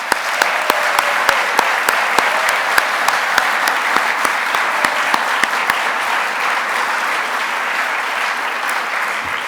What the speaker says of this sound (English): Let's give these winners another round of applause.